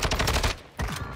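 Quick volley of video game gunshots, a rapid train of sharp blasts, a short pause, then another shot, loud and close.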